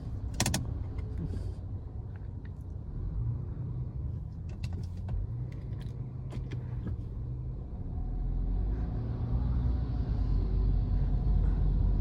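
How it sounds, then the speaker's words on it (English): A 2023 Perodua Alza H car idles in normal mode, a steady low engine rumble filling the cabin with a few faint clicks and taps, the hum growing slightly fuller toward the end. "During the idling, this car really feels peaceful."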